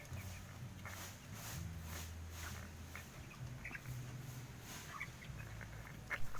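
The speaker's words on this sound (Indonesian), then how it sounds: "Ini adalah penampakan ayam yang ngorok." A chicken with chronic respiratory disease makes faint snoring, rattling breaths, repeated in short low bursts amid soft rustling and scattered clucks.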